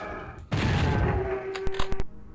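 Gunfire in the Doom 64 video game: a heavy blast followed by a sustained roar, then a quick burst of four or five sharp shots in rapid succession, loud and near, with no talking.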